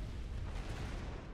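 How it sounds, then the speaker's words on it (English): A T1 bomber drops its bombs in a video game, setting off a continuous rumbling roar of explosions that fills the whole stretch at an even, dense level. "Here comes the T1 bomber from Mr. Yudi. It's gonna go and drop the bombs."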